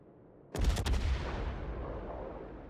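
A warship's main guns fire a salvo in the World of Warships naval battle game, a sudden loud booming blast of several overlapping shots followed by a long rumbling decay, with no talk.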